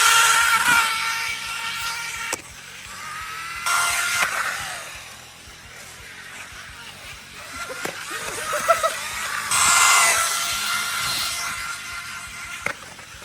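A DEERC 8618 RC car with a bent drive shaft is driven at full throttle, its electric motor giving a loud, high whine that rises in several bursts with rattling clicks in between, close by, with occasional voices.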